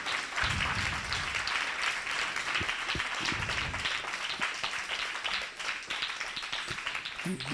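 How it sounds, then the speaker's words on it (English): Sustained audience applause at a Gita recitation program, dense steady clapping filling the room throughout with a faint voice or two underneath. "Give a big round of applause to Manya and Rajesh Garu"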